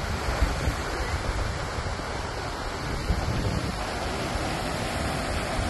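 Ocean surf rolls onto a beach at Saints on the KZN south coast on a windy morning with an easterly wind, a broad continuous roar of breaking waves mixed with buffeting wind noise on the microphone, steady and fairly loud throughout.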